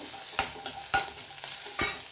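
Ginger, garlic and onion sizzling and frying in a pan, with a few distinct scraping stirs of a spatula punctuating the steady hiss, close up.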